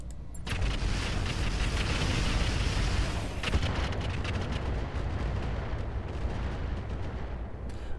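Weapons fire and explosions in the mech combat game Roguetech, a dense, loud continuous barrage of booming shots and blasts that rumbles on without pause and stands alone, free of talk.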